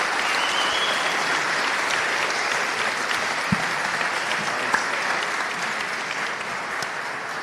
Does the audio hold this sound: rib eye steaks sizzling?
no